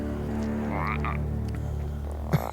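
Cartoon frog croaking in the animated series Avatar: The Last Airbender, a steady low tonal croak running throughout, fairly loud and close, ending with a short sharp knock.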